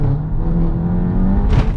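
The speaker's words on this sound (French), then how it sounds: "Le décata, il fait ce bruit de résonance en fait." A stage 2 tuned Volkswagen Golf 7 GTI with a decat exhaust drones with a loud, steady low-pitched resonance, rising slightly in tone, with a brief hissy burst near the end.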